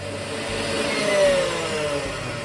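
An electric mixer runs on low speed, a steady close motor whir with a slight swell in loudness, while melted butter goes into a cake batter.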